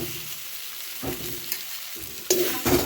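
Breadcrumbs being stirred into a frying vegetarian mixture in a pan, a soft scraping and sizzle coming in a few rhythmic strokes, close and fairly quiet.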